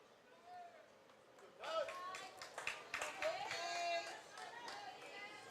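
A home Tiger crowd at a Waverly baseball game comes alive, with scattered clapping and cheers rising partway through and swelling over several seconds amid background chatter from the stands.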